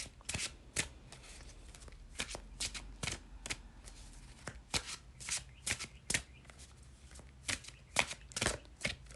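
Tarot cards are shuffled close up in a quiet room, giving a run of crisp riffling and slapping bursts in uneven rhythm.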